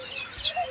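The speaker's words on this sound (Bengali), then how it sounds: "শালিক পাখিটা পিছনে ডাকতেছে" A common myna calls from close behind outdoors, a few short chirping notes standing above a steady background hiss.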